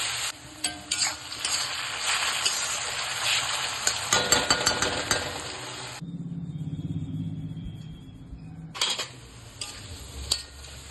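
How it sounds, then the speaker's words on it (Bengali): Small potato pieces fry in hot oil with a steady, dense sizzle that stops for a few seconds in the middle and then resumes, close and fairly loud with occasional light clinks. "এবার অল্প অল্প করে আলুর গুঁড়িগুলো মানে গুঁড়ি আলু ভেজে নিচ্ছি"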